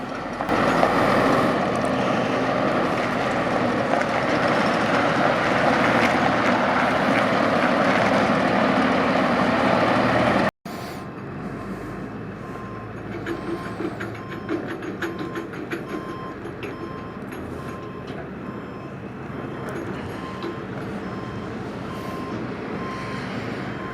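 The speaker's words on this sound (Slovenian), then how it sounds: "Za parkiranje na ozko odmerjen prostor sem volan raje prepustil Mateju." A MAN F90 truck maneuvering into a tight parking space: a steady, loud diesel engine drone, broken by a brief cut partway through before the engine rumble continues.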